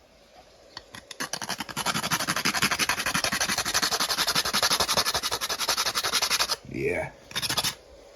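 Whole Jamaican nutmeg rubbed on a small hand grater in fast, close scraping strokes that build into a steady rhythm, then break for a short spoken word before a final burst of grating.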